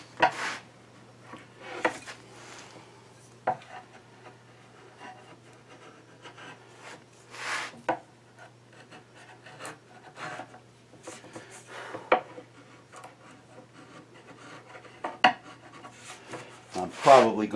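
Touch-up planing and sanding on a wooden joint of a bedside caddy frame: quiet, intermittent rasping strokes and scrapes separated by pauses, close by over a low steady hum.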